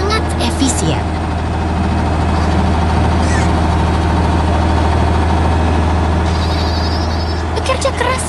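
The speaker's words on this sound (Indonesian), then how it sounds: "Sekarang si beruang beralih ke mesin pemanen hijau yang besar. Dia mulai memotong gandum dengan sangat efisien." A big green combine harvester cutting wheat in a 3D heavy-machinery game, its engine droning steadily and loud throughout, with occasional brief higher noises on top.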